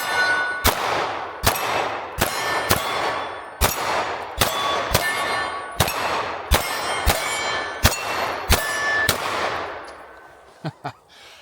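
An S&W CSX E-Series micro-compact hammer-fired pistol fires about a dozen quick shots, each followed by a bright ringing clang from steel targets, loud and rhythmic, with a few softer clicks at the end.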